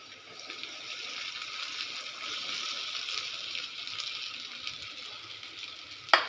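Soaked sabudana tapioca pearls stirred in a pan for khichdi, a soft continuous sizzling hiss with faint scraping from the stirring, ending in a brief sharp clink near the close.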